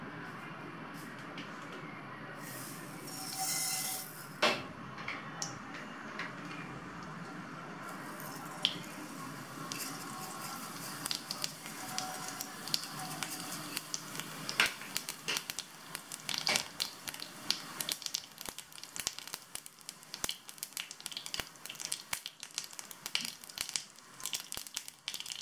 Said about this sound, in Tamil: இது வந்து கடுகு ஜீரகம் பொரிஞ்சிருச்சு.